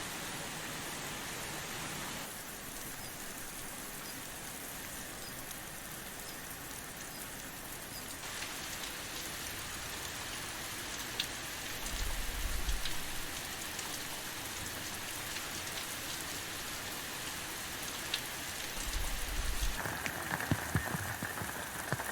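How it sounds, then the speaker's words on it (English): Rain falling steadily in a forest, a dense, even hiss of drops on leaves and ground that continues unbroken throughout, with occasional low thumps from heavier drips. "While the rain starts to recede,"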